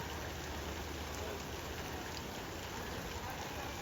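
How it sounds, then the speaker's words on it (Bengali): Heavy rain pours on waterlogged neighborhood streets in Savar-Ashulia, a dense, steady broadband wash with no breaks, fairly quiet overall and without audible talk. "প্রচুর বৃষ্টি হচ্ছে সকাল থেকে"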